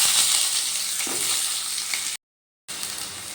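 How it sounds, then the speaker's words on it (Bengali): Cut pieces of two medium potatoes fry in hot mustard oil, making a loud, close, continuous sizzle that cuts out briefly for half a second and then returns. "এবার ওই তেলের মধ্যে আমি দিয়ে দিচ্ছি টুকরো করে কেটে রাখা আলু"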